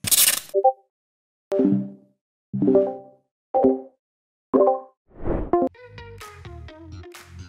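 The Discord notification sound: a series of short, soft plopping blips at irregular intervals, followed by a quick cluster of chirpy digital tones.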